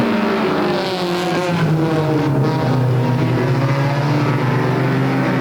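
Several race car engines roar and rev together at full throttle, a loud, steady, dense drone that rises as the pack accelerates away.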